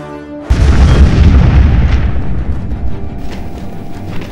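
In an audio drama, a shuttle comes under weapons fire: a sudden heavy boom hits after a brief quiet tone, followed by a sustained loud rumbling roar of explosions that slowly fades.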